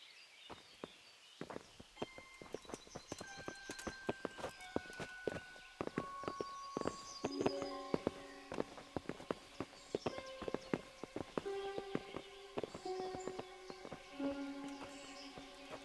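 Horse hooves in the video game Kingdom Come: Deliverance clip-clop in an irregular walking rhythm, with soft tonal chimes and music playing alongside.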